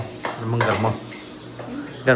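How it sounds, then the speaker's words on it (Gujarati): Dishes and utensils clink and clatter close by in a few bursts as dishes are scrubbed, with a low steady hum underneath. "કિંજલને તો અંદર વાસણ ઘસવા માંડે"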